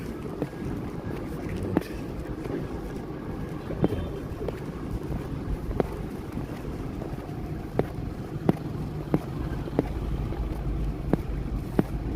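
Cold wind blows outdoors as a steady rushing roar buffets the microphone, with scattered sharp gusty knocks and thumps throughout and no voices.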